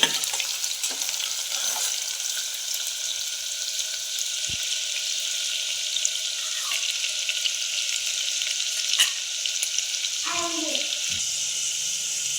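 Garlic sizzles in hot oil with mustard seeds in a pan, a steady close hiss of frying that runs throughout, with a few faint knocks and a brief watery gurgle near the end.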